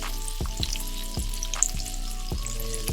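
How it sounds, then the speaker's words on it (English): Salmon fillet sears in a hot pan with a steady, close sizzle, broken by a few sharp knocks and scrapes as the fish is lifted and turned. "make sure at least it gets seared on the sides"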